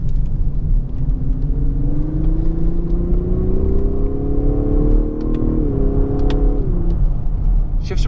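A 2018 Lexus LS500 with a 10-speed automatic drops to third gear into a corner, its engine note rising in a steady drone over constant road rumble, then a shift dip and easing off, with no talking.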